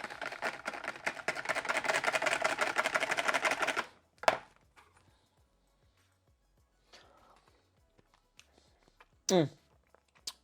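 Homemade mayonnaise ingredients with salt and pepper being mixed in a bowl, a dense whirring rattle for about four seconds that stops abruptly, followed by a few faint clicks and a short scrape near the end.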